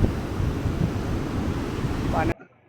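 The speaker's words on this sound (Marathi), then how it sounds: "पूर्ण बाहेरपर्यंत लाटा येत आहेत बीचच्या" Waves break on a beach at high tide, a continuous roar of surf mixed with heavy wind buffeting the microphone, loud and close, then cut off abruptly near the end.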